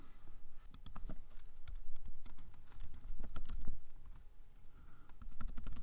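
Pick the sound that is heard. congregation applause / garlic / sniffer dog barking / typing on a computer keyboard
typing on a computer keyboard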